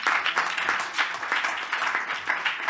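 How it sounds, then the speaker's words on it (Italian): Audience applause for a parliamentarian at a real estate market conference, a moderate roomful of clapping in uneven surging waves. "Un applauso per l'onorevole Foti"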